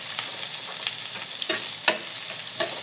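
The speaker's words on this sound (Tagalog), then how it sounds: "Fry lang natin ito ng maayos." Unpeeled garlic cloves frying in hot oil, a soft continuous sizzle with scattered crackles and a few sharper pops, close and fairly quiet, no voices.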